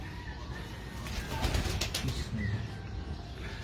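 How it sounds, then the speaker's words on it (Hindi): Pigeons on a rooftop in Kasur, with soft cooing and wing flapping at moderate distance under steady outdoor background noise. "ये माशाल्लाह दोस्तों 2 कबूतर ये इस तरफ हैं।"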